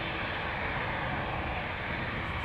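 A TUI passenger airplane at Amsterdam Schiphol Airport gives a steady, loud broadband engine roar that holds evenly throughout, with no voices over it.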